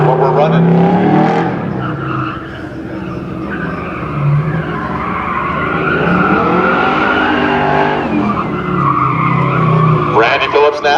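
A C10 pickup with an LS1 V8 races a pro-class car show course in Westminster, California; its engine roars steadily and up close, rising and falling through the whole stretch, with tire skids mixed in.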